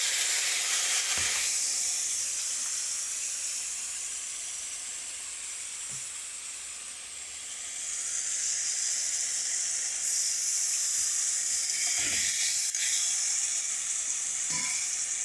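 Spice paste of chili, turmeric, salt, tomato, ginger, cumin and coriander fries with fried potatoes in a pan, giving a loud continuous hiss and sizzle with a few stirring knocks and no talk.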